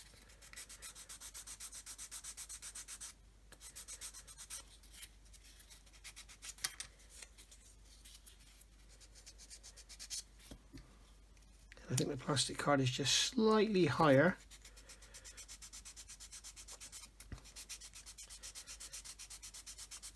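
A sanding stick rubs flat across plastic card and parts of a 1/32 Kitty Hawk OV-10A/C Bronco scale model, giving one short, close rasping burst after quiet talk by a man.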